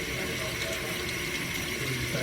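Tap water running into a kitchen sink while waiting for it to heat, a steady close gushing hiss with no break.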